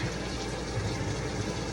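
Water runs steadily from a kitchen tap in a continuous, even rushing hiss, close and alone, during home chili cooking.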